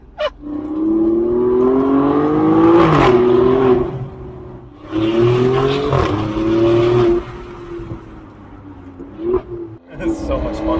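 Alfa Romeo Stelvio Quadrifoglio with a Z-pipe resonator-delete exhaust, revving in several loud surging bursts that rise and fall, with people talking over the engine.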